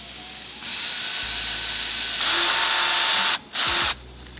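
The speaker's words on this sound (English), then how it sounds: "just go ahead and drill that hole" A power drill bores a hole through the plastic hull of a kayak, its steady whine growing louder and harsher midway, then briefly dropping out before resuming for a final short burst.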